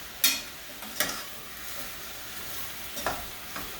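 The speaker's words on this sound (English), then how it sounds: "Now I'm going to give that a stir." Vegetables with pepper flakes cooking in a soup pot for chicken soup are stirred, giving a few sharp scraping clinks over a soft, steady sizzle, with no voices.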